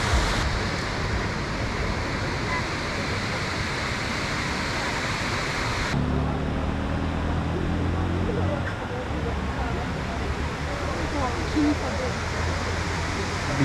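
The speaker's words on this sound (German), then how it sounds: "Ein wunderschöner Wasserfall." Broad, steady rushing of a waterfall in Ella, Sri Lanka, constant and fairly loud throughout, with a faint low engine-like hum joining partway through.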